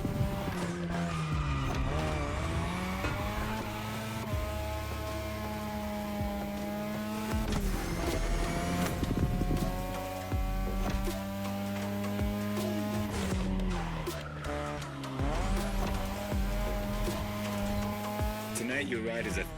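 A car drifts in The Crew Motorfest with a steady engine roar and sustained tire squeal, the pitch rising and falling through the slide, loud and continuous with music or engine harmonics layered over it.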